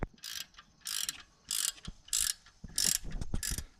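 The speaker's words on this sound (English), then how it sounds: "I'm gonna tighten up the alternator and put the belt back on." Wrench ratcheting in repeated bursts while an alternator is tightened on a Dodge Charger Hemi engine, a series of bright clicking runs separated by short pauses and low knocks, close and fairly quiet.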